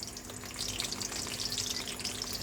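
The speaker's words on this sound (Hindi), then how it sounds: "ये फ्राई हो रहे हैं" Eggplant slices sizzle steadily in hot oil, a continuous crackling hiss with fine popping texture that holds close and fairly loud for the whole stretch, with no voices over it.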